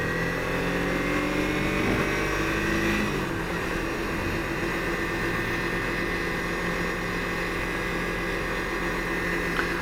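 A factory Ford 5.0 Mustang drives slowly, heard from inside as a steady loud engine drone and road rumble with shifting harmonic tones, and no talk.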